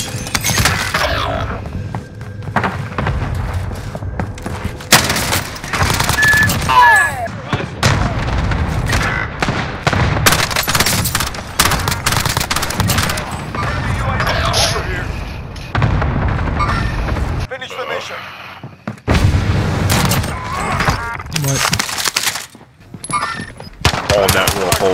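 Heavy automatic gunfire and booming explosions in Warzone Resurgence trios, loud bursts and blasts in quick succession with short gaps, with voices talking over the fighting.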